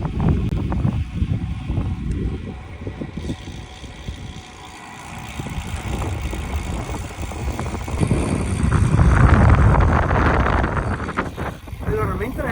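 Crosswind buffets the microphone while cycling on a road in Tuscany, a steady low roar that swells louder toward the end, with brief speech over it.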